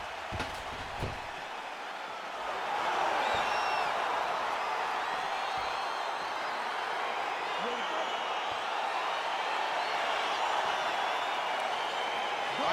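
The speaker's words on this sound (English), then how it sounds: "crowd getting excited as this fight gets underway" A virtual arena crowd in the fighting game UFC 4 swells into sustained cheering as a mixed martial arts bout begins, a dense steady roar with a few sharp thuds at the start.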